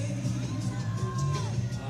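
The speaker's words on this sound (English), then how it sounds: "Well, there's the crowd." Crowd at a climbing competition making a sustained hubbub of cheering and shouts, with an announcer talking over it.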